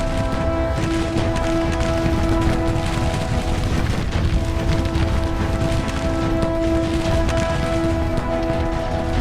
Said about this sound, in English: Advancing under heavy fire.